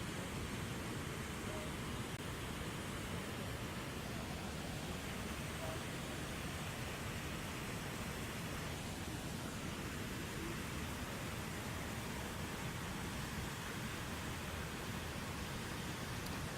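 A waterfall near bears fishing on its lip roars with a steady, dense rush of water throughout, constant and unbroken, with a faint voice only barely present beneath the noise.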